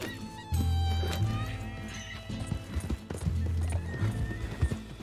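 A horse in Red Dead Redemption 2 clip-clops along and whinnies twice, its hooves close and steady, with a faint voice in the background.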